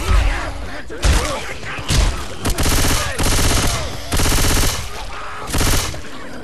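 Bursts of automatic gunfire in Left 4 Dead 2 come in repeated close, loud volleys separated by short pauses, with other battle noise between them.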